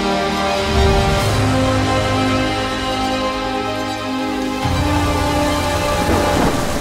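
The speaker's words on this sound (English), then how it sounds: "But the rain would also stop just as abruptly as it began." Rain falls in a rainforest as a dense, continuous hiss, with low rumbling underneath that swells near the start and again toward the end; no voices.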